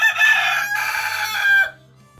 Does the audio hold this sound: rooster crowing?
yes